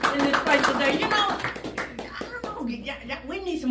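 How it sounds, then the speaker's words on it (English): A church congregation claps hands in praise during a Sunday service, a burst of brisk, irregular claps mingled with voices and speech. "Give the Lord a hand clap of praise in this place today."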